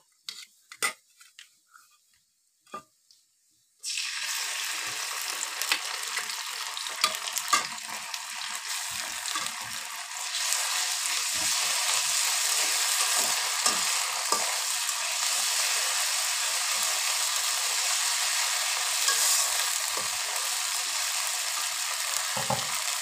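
A stone-ground paste of cumin, onion, garlic and green chilli hits hot oil in a pan for a fish-head and pui greens dish. A few quiet clicks come first, then a sudden loud, steady sizzle that grows stronger partway through, with scraping stirs.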